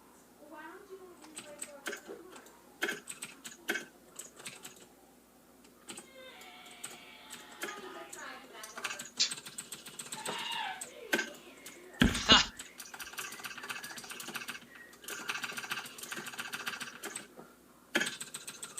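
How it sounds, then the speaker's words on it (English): Rapid clattering of a computer keyboard runs throughout, loud and close, with a sharp bang partway through and faint voices underneath. "now my keyboard is so fucking loud"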